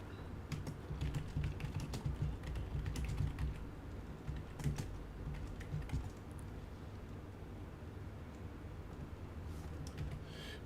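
Steady clicking of a computer keyboard being typed on during a Diablo 2 Resurrected game session, rapid close-up keystrokes over a low background hum, continuing throughout.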